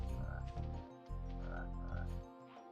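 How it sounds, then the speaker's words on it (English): Frog croaking in the PS1 game Spyro the Dragon, deep repeated croaks over a steady game soundtrack, with no talking. "Frog."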